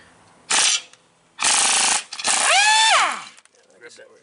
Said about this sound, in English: So go ahead and get that impact over here, Nick, and let's zip this off real quick.